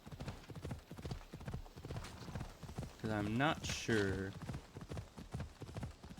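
Horse hooves clip-clopping at a steady gallop in Assassin's Creed Odyssey, a rapid continuous rhythm with a brief horse whinny, while someone talks over it.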